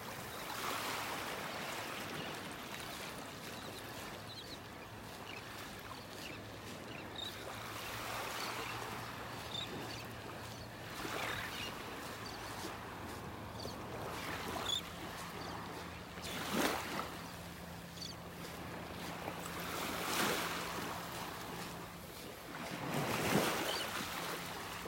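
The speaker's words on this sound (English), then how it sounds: "Peaceful, listening to the waves and the birds." Gentle ocean waves wash in a steady, quiet rhythm on a beach in North Naples, Florida, with soft surf swells rising and falling and faint wind, no clear birdsong standing out.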